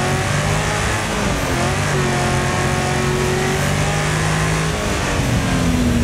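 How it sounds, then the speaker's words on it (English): Racing car engine in the Wreckfest video game, a beat-up car running steadily with continuous droning engine tones that rise and shift in pitch as it drives, loud and constant throughout. "The car is not driving so good right now."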